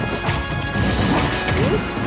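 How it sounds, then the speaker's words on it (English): Heavy down smash hits land in a Super Smash Bros. Ultimate match with a Steve character, giving dense crashing and thwacking impacts over loud, busy game audio with no talk. "These down smashes have been putting in a lot of work for Pango"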